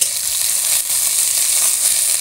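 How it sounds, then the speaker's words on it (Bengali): Onion, garlic and green chili sizzling in hot oil with cumin and dried chili, a steady, dense hiss of frying held close and even throughout, with no voices. "এবার দেবো পেঁয়াজ রসুন আর কাঁচামরিচ এটা আমি ভাজি করে নেবো লাল লাল করে"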